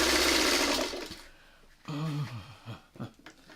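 A sewing machine webbing quilt blocks together gives a fast, loud whirring stitch burst for about a second, then goes quiet. A voice comes in over the pause.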